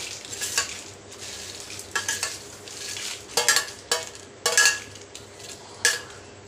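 Dried red chillies fry in a pan for peanut chutney under a soft, steady sizzle. Loud metallic scrapes and clinks from stirring come in bursts, close up.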